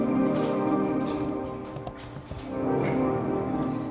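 A dark, moody synth pad in a Silent Hill style, shaped by a formant filter into a vowel-like tone with shimmering reverb and pushed into a limiter, sustaining densely and steadily with no voices.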